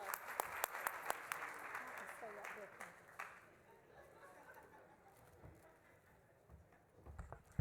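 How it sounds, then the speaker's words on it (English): Scattered, fairly faint applause from a luncheon audience, a few sharp claps standing out early and the clapping thinning toward the end, set against room murmur and talk. "Let's give her another round of applause."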